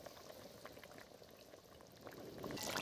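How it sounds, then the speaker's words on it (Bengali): A pot of fish curry with spinach and rohu or bata fish simmers on a village stove, a soft continuous bubbling and hiss that swells slightly toward the end. "এখন মিনিট 5-6 ফুটবে, ফুটলে ঝোলটা নামিয়ে নেব।"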